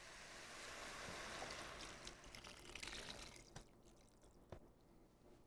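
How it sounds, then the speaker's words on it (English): Vegetable stock pours into a soup pot for a vegan potato leek soup, a steady liquid splash and trickle that tapers off into a few drips and small splashes. "So we're just gonna drop our vegetable stock."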